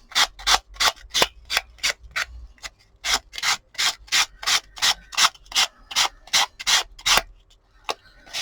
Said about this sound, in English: I'm going to sandpaper that bit off actually just now.